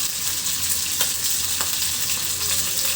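Fish frying with whole garlic cloves in hot oil gives a steady, close sizzle that runs throughout, with a few sharper spits popping out of the crackle.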